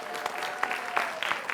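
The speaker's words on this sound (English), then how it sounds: "Can we have a round of applause for both teams for an excellent match?" Audience at a junior varsity quiz championship applauding both teams, a short burst of scattered clapping from a modest crowd, heard at a distance.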